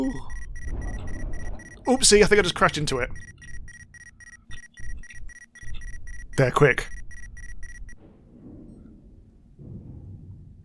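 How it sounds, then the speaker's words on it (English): Proximity alarm aboard a spaceship in the game Ostranauts: a steady, bright electronic tone with layered harmonics that runs for about eight seconds under excited talking, then cuts off. "The proximity alarm's going."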